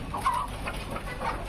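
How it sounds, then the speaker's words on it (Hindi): Aseel fowl, roosters and hens, cluck in short, close bursts, a brief flurry of low calls over a quiet pen. "इसमें सब में मुर्गे हैं"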